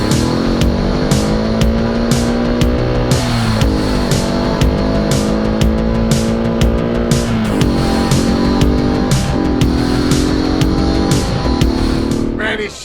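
A small mini jeep engine revving hard while driving off-road through mud and snow, with loud droning and shifting pitch as gears change and rapid clicking and clattering over it, while someone talks.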